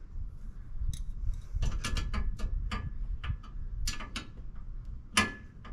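A ratchet wrench tightens the bolt on a DEMCO RECON 5th wheel to gooseneck conversion hitch, rapid close clicking bursts in repeated strokes with metallic ticks over a low hum.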